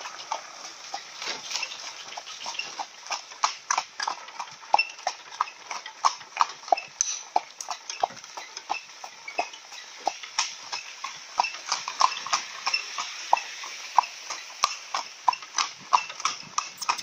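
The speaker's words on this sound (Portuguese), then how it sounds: "É o cavalo gaúcho hoje aqui," A horse's hooves clip-clop at a quick, steady gait while it pulls a cart, each sharp strike close and distinct over a faint background, with no talking.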